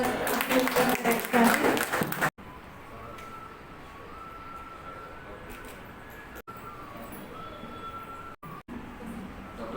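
An audience at a National Doctors' Day felicitation ceremony claps in a dense burst of applause for about two seconds, then it drops away to a quiet room with faint background hum.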